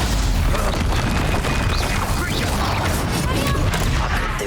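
A Confringo fire-spell explosion in Hogwarts Legacy, heard as a loud, dense roar of combat blasts and crackling that fills the whole moment, with a voice mixed into the din.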